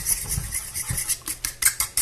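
Utensil stirring eggs with parsley, basil, oregano, Parmesan, A1 sauce and grated onion in a bowl for low-carb meatloaf, with soft irregular scraping and light clinking against the bowl up close.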